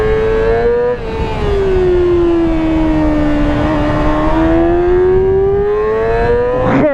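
A Yamaha R6 sport motorcycle engine screams at high revs, a loud sustained whine that dips briefly near the start, sags slightly, then climbs again as the rider holds the throttle.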